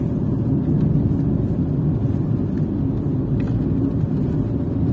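A car driving along a road in New Brunswick, Canada, heard from inside as a loud, steady low rumble of engine and tyre noise that holds constant with no talking.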